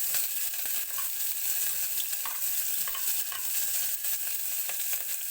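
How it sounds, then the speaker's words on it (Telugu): Onions and cumin seeds fry in hot oil, making a dense, continuous sizzle with a few faint stirring clicks, close and steady throughout, with no talking. "ఆనియన్స్ ఫ్రై చేద్దామండి."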